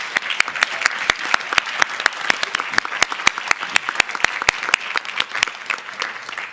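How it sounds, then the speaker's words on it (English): A small group at a school board meeting claps for students, individual sharp claps clearly separable in a quick, uneven patter that carries on for several seconds in a room. "let's give them a huge round of applause here."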